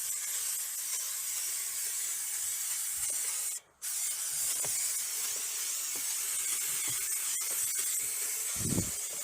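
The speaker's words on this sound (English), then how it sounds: "I'm going to use spray carpet adhesive straight on" Can of spray carpet adhesive hissing in a long continuous burst onto wood, close and loud, with one brief pause midway and small knocks toward the end.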